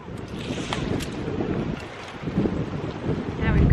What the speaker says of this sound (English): That northerly wind, as we're looking straight at the sea, it's just hitting you full on in the face